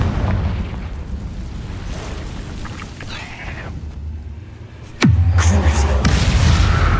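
Confringo fire spell in Hogwarts Legacy, heard as rumbling magical combat noise with scattered impacts, then a sudden loud booming explosion that sweeps downward and keeps roaring afterward.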